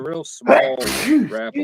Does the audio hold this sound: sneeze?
yes